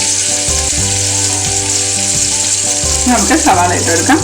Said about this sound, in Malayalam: ഇട്ട ഉടനെ തന്നെ നമുക്ക് സവാള ഇട്ട് കൊടുക്കാം.